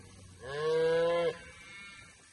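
Cattle on a green pasture give a single loud, drawn-out moo lasting under a second, alone against quiet open-air background.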